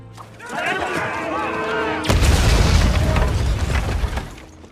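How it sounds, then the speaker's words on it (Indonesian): A dynamite blast in a western action film: a sudden loud, broadband boom bursts in after a stretch of tonal music and rolls on for a couple of seconds before fading. "senjata nafas iblis itu pun akhirnya dapat diledakkan dengan dinamit oleh Mr. Faraday"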